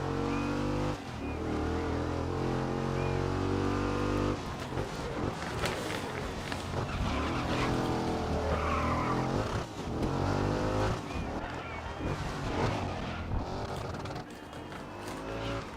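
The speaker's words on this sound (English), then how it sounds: "listen to me grinding gears, or it's not grinding, I'm just revving the gear." A car engine revs loudly and close while gears are shifted, pitch climbing and dropping in repeated surges across the gear changes, continuous with no pauses.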